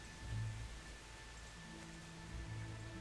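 Steady soft rainfall hiss in the video game Kingdom Come: Deliverance, with a low rumbling hum underneath, continuous and even throughout.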